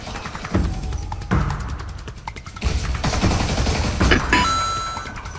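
Automatic gunfire in the video game Warface: several rapid bursts of close, loud shots in quick succession, with short pauses between bursts and a bright chiming tone near the end.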